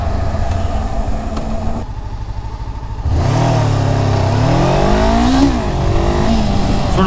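A Honda CBR500R motorcycle accelerates hard from close range, its engine note climbing steeply through the gears with loud rising revs after a brief quieter lull.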